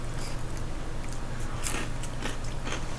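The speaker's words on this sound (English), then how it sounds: "Excuse me for just munching away on camera." Someone munching away on food close up, soft crunchy bites and chewing clicks repeating over a steady low hum, with no talk.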